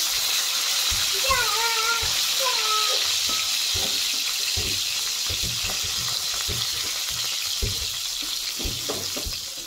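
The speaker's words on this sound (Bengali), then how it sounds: "তো চলো মাছগুলো এক এক করে এখন আমি ভেজে নিই" Fish sizzling and frying in a hot pan, a steady loud crackle with occasional stirring, and a brief voice near the start.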